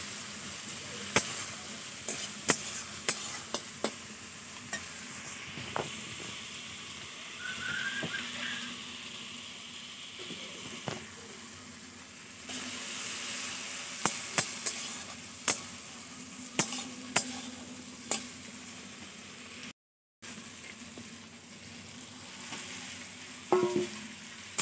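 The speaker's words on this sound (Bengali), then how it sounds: "তো ডিমের ঝোলের মশলা এখন কষছি।" Spice paste for egg curry fries in a pan, a continuous soft sizzle punctuated by repeated sharp clacks and scrapes of a stirring spoon, close up, with a brief silent gap near the end and no speech.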